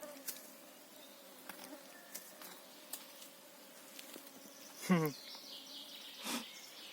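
Mosquitoes buzz faintly in a forest during mushroom picking, a thin high whine under scattered soft clicks and rustles, with a brief louder tonal sound near the end and distant birds.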